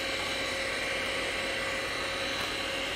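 Wood lathe spinning a napkin ring blank as a cutting tool is pushed in, a steady loud whirring drone with a dense high-pitched hiss held evenly throughout, no voices.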